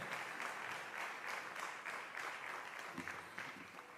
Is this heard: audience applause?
yes